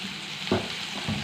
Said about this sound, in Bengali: তো গাইস চলো আলুটা ভাজা হোক